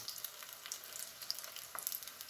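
Corn fritters frying in hot oil, eight in the pan at once, give a steady, soft sizzle with faint crackling pops scattered throughout, close by and otherwise quiet.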